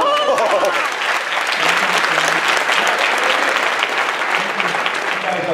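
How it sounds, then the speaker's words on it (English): An audience at a fitness business summit gives a loud, sustained round of applause, a dense and even wash of clapping that runs throughout, with a voice faintly heard beneath it. "we'll give you a round of applause, a thunderous round of applause"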